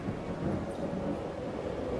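A thunderstorm rolls through a Jurassic World Evolution park, with a faint, steady low rumble of thunder and wind and no talking over it.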